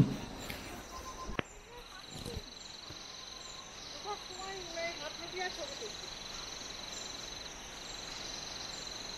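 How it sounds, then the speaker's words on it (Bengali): Forest near Changey Falls in Kolakham: scattered bird calls and a crow-like caw over a steady broadband hiss of insects and a distant waterfall roar, with people talking in the background. "চারিদিকে পাখির ডাক, পোকার শব্দ, আর দূর থেকে শোনা যাচ্ছে জলপ্রপাতের গর্জন"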